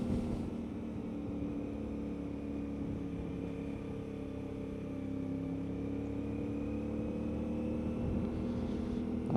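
A CF Moto 450MT motorcycle hums steadily through curves on hidden roads in northern Portugal, a continuous engine drone with gently shifting pitch under wind noise.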